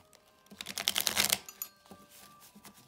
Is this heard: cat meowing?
no